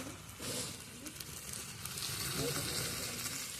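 Meat and potatoes sauté with oil in a pan over a home clay stove, giving a steady soft sizzle with occasional stirring scrapes and crackles throughout.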